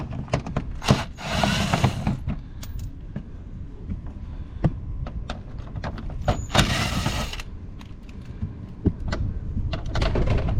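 Ten-millimetre screws come out of the lower splash shield on a Toyota Corolla, with two short bursts of a power tool whirring amid scattered clicks and clacks of handling nearby.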